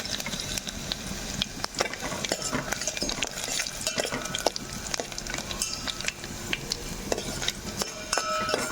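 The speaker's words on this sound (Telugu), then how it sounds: "ఇప్పుడు మనం వెల్లుల్లి రెబ్బలు కూడా వేసుకుంటున్నాను." Garlic cloves and tempering seeds (mustard, cumin, chana dal, urad dal) frying in hot oil in a pan, a steady close sizzle with frequent scraping and clinking stir strokes throughout.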